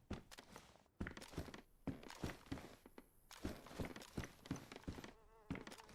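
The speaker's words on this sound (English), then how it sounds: "I have to reload my mag here." In the survival video game DayZ, a gun magazine is reloaded with rounds, producing a quick series of dull, rhythmic thunks and clicks, close and fairly quiet, with faint background game ambience.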